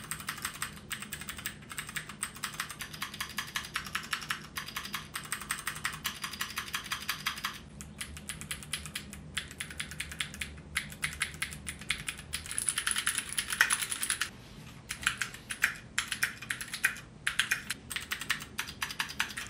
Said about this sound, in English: it sounds a lot different, and it definitely feels a lot different when you type.